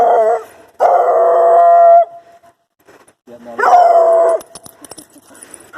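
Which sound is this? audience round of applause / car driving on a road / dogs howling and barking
dogs howling and barking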